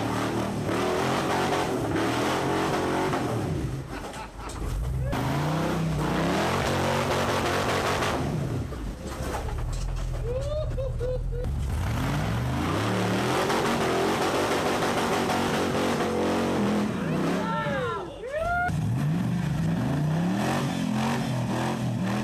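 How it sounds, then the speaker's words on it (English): A 4WD vehicle's engine revs hard and loud on a near-vertical off-road climb, with sustained roaring and rising, falling pitch sweeps, and brief dips between bursts of throttle. "Near vertical, it would take absolute skill and a ton of horsepower to make this climb"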